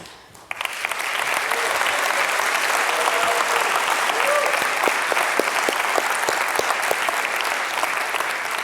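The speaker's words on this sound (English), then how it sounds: "give a huge round of applause for Europe's largest startup competition by prize" Audience applause for Europe's largest startup competition, a loud, steady roar of clapping from a large crowd that swells quickly and holds for several seconds, with a few sharp claps standing out.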